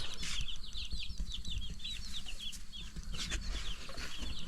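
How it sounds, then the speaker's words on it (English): Chicks peep in quick, high, repeated chirps, fairly close, over a constant low background rumble, with the sound of fowl nearby. "We have chicks."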